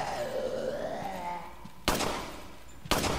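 Two sharp gunshots from the video game Resident Evil 4, each a loud broadband crack with a short tail, spaced about a second apart after a stretch of tonal game ambience and music.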